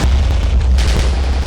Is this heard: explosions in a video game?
yes